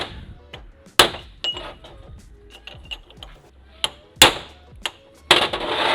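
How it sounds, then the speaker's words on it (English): Sharp metallic taps of a chisel bending back the tabs of U-joint snap rings, several distinct clinks and knocks spaced irregularly with quiet gaps between, close and fairly loud. "So we take the chisel and just bend back the tabs of those snap rings just a little bit."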